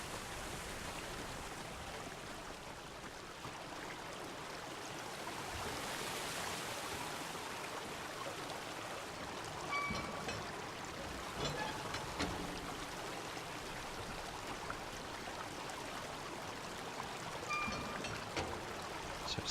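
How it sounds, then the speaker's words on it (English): Waterfall in the video game Obduction, a steady broadband rushing of falling water, continuous and moderately loud throughout. "That's a good looking waterfall."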